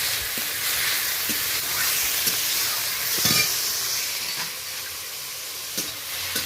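Grated onion, tomato and chopped green chilli fry in hot oil with a steady broad sizzle, while a spatula stirs and scrapes at intervals, close and continuous without voices.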